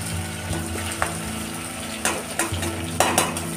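Chillies frying in a pan for a paneer curry, a steady close sizzle with occasional clinks and scrapes of a utensil stirring, no voices.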